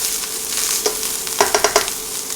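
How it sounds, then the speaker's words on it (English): Onions frying in a pan for omurice give a steady, close sizzle, broken by a quick run of sharp scraping clicks as they are stirred; no one speaks. "Cooking onions is always going to smell good."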